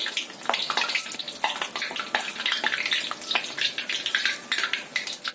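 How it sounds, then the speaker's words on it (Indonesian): Tofu and carrot snacks deep-frying in hot oil, a steady dense sizzle and crackle with frequent small pops, close and fairly loud with no talking. "Kemudian kita goreng yang selanjutnya."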